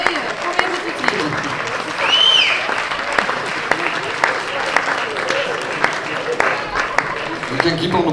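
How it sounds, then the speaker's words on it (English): Applause from the audience at a Ghent music scene celebration, sustained and fairly loud while a winner is called up to the stage, with voices talking over the clapping. "We can keep on applauding, he's almost here."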